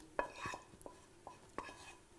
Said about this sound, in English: We give it a stir.